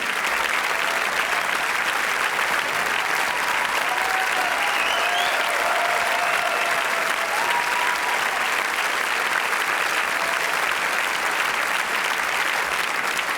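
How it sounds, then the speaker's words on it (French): A Paris theatre audience applauds comedians at the end of a comedy sketch show, a long, loud and steady roar of clapping that fills the hall without letting up. "Je vous demande de les applaudir comme il se doit Alexandre Astier, Muriel Bonnet."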